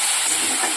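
Onions browned in a pan sizzle steadily as green chili paste is added, a continuous close, bright hiss with no voices.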